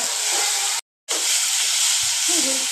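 Tomato paste frying in hot oil as spices are added for a pabda fish curry, giving a loud, steady sizzling hiss that cuts out briefly before resuming, with faint background sounds later on.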